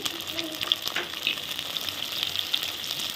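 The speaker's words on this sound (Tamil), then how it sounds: "தக்காளி நல்லா வதங்கட்டும்" Tomatoes sautéing in a pan for a Tamil anchovy fish curry make a steady close sizzle with a bright hiss, broken by a few light stirring scrapes.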